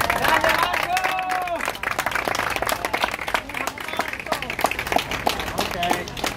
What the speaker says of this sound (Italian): Applauso ragazzi!